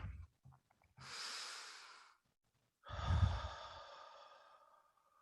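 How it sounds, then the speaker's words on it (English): Two deep breaths during a guided meditation in a church service: a long airy inhale-like rush followed after a pause by a stronger, fuller exhale with low breathy rumble, close and alone with no talking. "take a deep breath"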